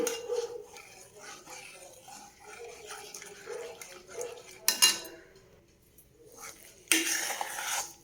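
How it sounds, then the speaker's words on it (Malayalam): Rava kesari mixture with coconut milk being stirred in a pan to break up lumps: soft scraping and stirring with a few sharper clinks of spoon against pan, quiet and close. "നന്നായിട്ട് ഇളക്കി യോജിപ്പിച്ച് കട്ടകളായി വന്നതെല്ലാം പൊടിച്ചെടുക്കണം"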